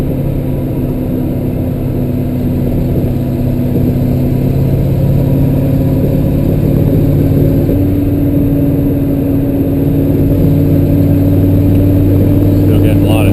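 A cold 1969 Chevelle SS 396 big-block engine on fat tires drives under load, a loud, close, steady droning rumble with strong humming tones that shift slightly in pitch.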